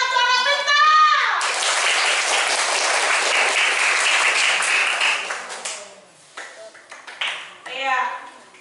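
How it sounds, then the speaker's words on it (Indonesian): Children in a fourth-grade physical education class burst into loud, dense clapping for about four seconds. The applause fades out, and a voice can be heard before and after it. "Tepuk tangan untuk anak bintang."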